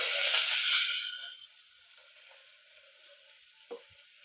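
Curry leaves hit hot oil already holding cumin and asafoetida, tempering for a moong dal and broken wheat upma: a loud burst of sizzling that fades within about a second to a low, steady crackle, with one soft clink near the end.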